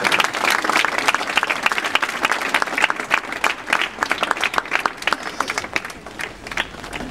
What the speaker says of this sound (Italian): E facciamogli un applauso tutti insieme.